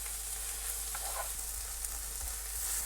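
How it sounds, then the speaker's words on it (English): Spam and kimchi filling with a splash of kimchi juice stir-fried in a pan, a continuous bright hiss of frying with faint scraping, no talk. "just give everything a stir fry"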